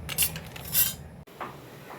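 Metal cooking pot clanks and clinks against a stove in a few brief knocks, followed by a quieter scrape, close by with no talking.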